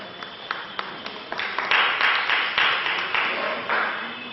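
An audience at a Hindi-language gathering in Patna breaks into applause, scattered claps at first quickly swelling into steady, fairly close crowd clapping.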